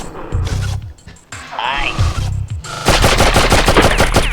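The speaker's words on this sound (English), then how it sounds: "going to run over to the other side and use our machine gun" Rapid machine gun bursts from a PlayStation 1 video game, loud and dense, rattle continuously through the second half after shorter in-game effects and a brief rising electronic tone.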